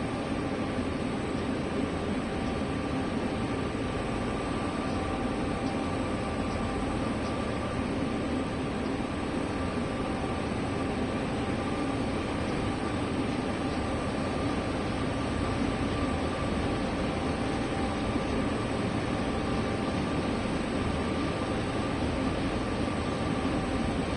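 A train moving slowly in Train Simulator 3, a continuous dense rumble and broadband hiss with a faint steady tone, unchanging and loud for the whole stretch, with no talk.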